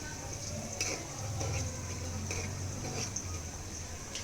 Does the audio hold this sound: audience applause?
no